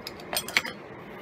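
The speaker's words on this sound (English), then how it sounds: "You need a bottle opener for this one." A hard root beer bottle pried open with a bottle opener: a few light metallic clinks and a sharp snap as the cap comes off, fairly close and alone.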